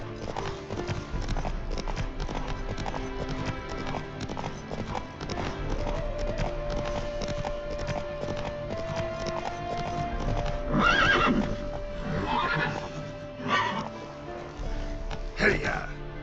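A horse gallops in The Witcher 3: Wild Hunt, its hooves pounding in a loud steady rhythm with repeated neighs and whinnies cutting through, under game music and voices.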